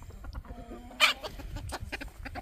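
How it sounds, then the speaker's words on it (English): Chickens clucking at feeding time, several birds giving quick, busy clucks and squawks close by, with one louder call standing out. "I'm gonna feed the chickens."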